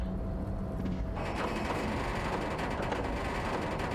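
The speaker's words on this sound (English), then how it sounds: "With a loud grind, the crane shifts overhead, moving a massive metal container through the air." In the Disco Elysium video game, a crane grinds overhead as it moves a massive metal container, a dense, rough mechanical rumble and scrape that thickens after a moment and continues steadily.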